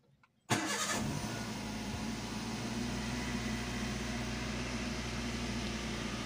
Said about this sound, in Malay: Okay, aku nak start.